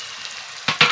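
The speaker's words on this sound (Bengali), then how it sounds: "এখন তেলের মধ্যে পেঁয়াজ কুচি দিয়ে দিচ্ছি।" Chopped onion and green chillies hitting hot oil for a chowmein samosa filling, a steady soft sizzle breaking into two louder bursts of crackle near the end, close and alone.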